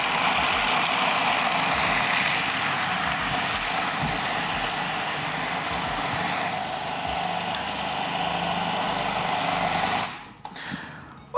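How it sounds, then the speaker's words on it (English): A food processor blitzes pistachios, ground almonds and lemon zest, a loud, steady motor whir with gritty grinding that holds for about ten seconds before cutting off abruptly near the end. "So we're going to blitz the two together before we add in the rest of the ingredients."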